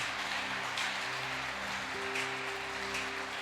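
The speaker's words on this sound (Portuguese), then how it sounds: "Vamos aplaudir a Jesus por isso?" A church congregation applauds, a dense, steady clapping that fills the room evenly at moderate loudness, with a low sustained tone from music or an organ underneath.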